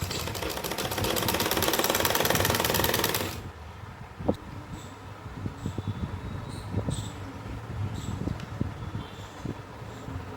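A sewing machine stitches along the edge of a palazzo pant in a fast, loud, continuous mechanical whir for about three seconds, then stops, leaving quiet handling clicks and rustles of fabric.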